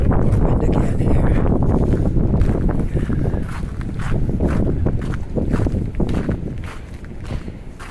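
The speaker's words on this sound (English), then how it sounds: "Now we'll get a little more wind again here." Strong wind buffets the microphone outdoors on a walk through Halifax's North End, a loud continuous low roar and rumble with faint footsteps beneath.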